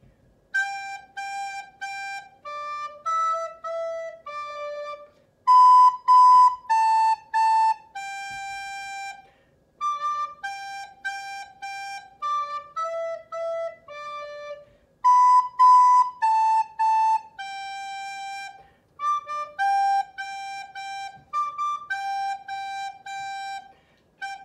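A recorder plays Old MacDonald alone, a clear, pure-toned melody of short phrases with brief pauses between them, close and moderately loud.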